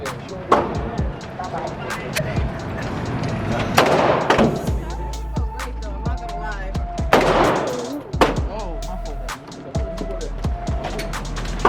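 Loud gunshots crack at an indoor gun range, with a 9mm pistol among the guns, as single sharp reports spread unevenly across the span, some close together, while people talk in the background between shots.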